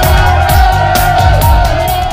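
A home crowd at an Aussie rules football match, the Kapundas against the Flying Boomerangs, shouts and whoops loudly and close, with voices rising and overlapping in a continuous din.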